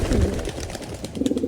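Pigeons cooing behind a house, soft repeated low coos close by with a faint rhythmic pulse.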